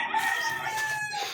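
A chicken on a rural island clucks and crows, one close, clear call with a drawn-out tonal note and some softer clucks, with no voices.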